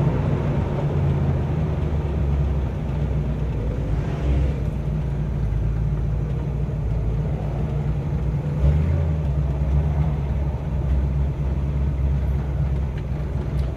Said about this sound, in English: And we're in traffic.